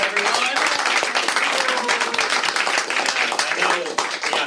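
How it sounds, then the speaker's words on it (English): Applause for a guest on a talk show, dense clapping and cheering sustained throughout, with voices speaking over it. "Big applause, everyone"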